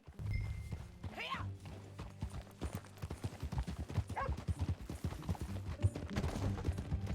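Video game horse hooves clop in a quick, steady rhythm, close and prominent, with a horse's whinny and brief voices mixed in over the galloping.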